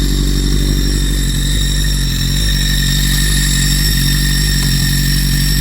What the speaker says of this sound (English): Just like a Ducati clutch.